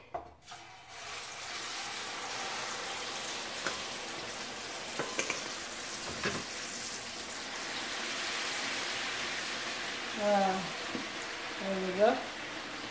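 Sliced plantain dropped into hot oil in a skillet, setting off a steady loud sizzle and crackle of deep frying with occasional clinks of a utensil, while a person speaks briefly over it.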